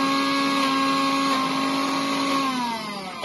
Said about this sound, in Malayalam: കുരുകളഞ്ഞ ഈത്തപ്പഴവും മുളക് പൊടിയും ഉപ്പും വിനീഗറും കൂടിയിട്ട് നന്നായിട്ട് മിക്സിയിൽ അരച്ച് എടുത്തിട്ട്